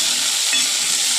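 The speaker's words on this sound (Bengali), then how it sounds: "ভেন্ডিটা প্রায় ভাজা ভাজা হয়ে গেছে" Sliced okra frying in a pan, a steady bright hiss of hot oil that holds evenly throughout the short moment, close and fairly loud with no voices.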